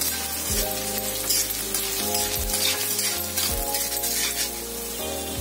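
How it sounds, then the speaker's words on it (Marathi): Two inches of ginger sizzle and fry in a pan over medium gas for misal pav, a steady dense crackle with occasional stirring scrapes, close and continuous throughout with no talking. "त्यामध्ये 2 इंच आलं घातलंय। ते चांगलं परतून घ्यायचंय मीडियम गॅसवर।"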